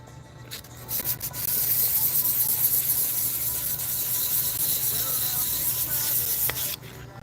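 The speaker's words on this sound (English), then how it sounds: "Now we're just buffing out the bad scratches. The sandpaper is working really good." Sandpaper rubbing out scratches on a surface, a steady close-up hiss of back-and-forth sanding that starts after a few brief strokes and continues loudly, with no talking.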